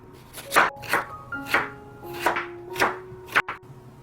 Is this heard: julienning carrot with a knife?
yes